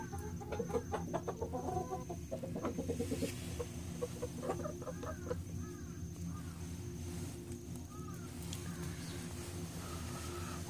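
Hens cluck and call in a chicken coop where a hen sits to lay while another pecks at a companion's wings, a steady busy cackle at moderate distance with scattered sharper squawks.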